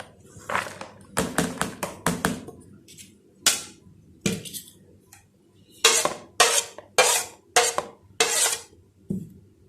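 A spoon tapping and clinking against a bowl while a chicken, capsicum and potato kabab mixture is stirred by hand, in irregular close bursts of clatter with short pauses between.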